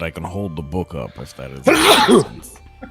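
A single loud sneeze bursts out midway, following a few words of conversational speech from a person at a table, with a brief quieter tail afterward.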